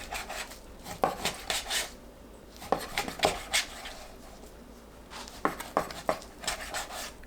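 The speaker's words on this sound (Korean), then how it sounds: "삼겹살을 두부 크기로 썰어줍니다." Knife slicing pork belly into tofu-sized pieces on a cutting board, a series of sharp, close chopping taps coming in short bursts with brief pauses between them.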